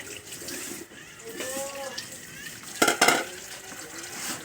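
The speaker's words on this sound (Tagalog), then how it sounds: "Hugas plato na po." Plates being washed under running water at a sink after a meal, with a steady trickle, soft dish clinks and a louder splash burst midway; a voice talks faintly in the background.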